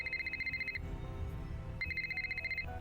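Electronic phone ringtone in the Nancy Drew: The Silent Spy video game, two bursts of repeated trilling rings separated by a low rumbling pause, fairly loud and close with no talking.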